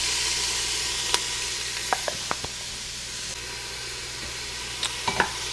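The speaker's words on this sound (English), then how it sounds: "we're gonna let this saute for like a minute" Onions, fresh chopped garlic and crushed pepper sauté in a pan, a loud continuous sizzle with a few sharp utensil taps and scrapes scattered through.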